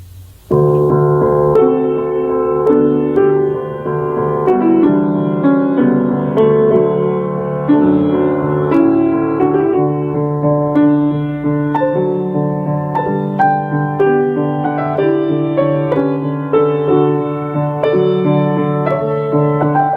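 Solo piano playing a flowing melody with chords, close and clear, sustained notes ringing throughout.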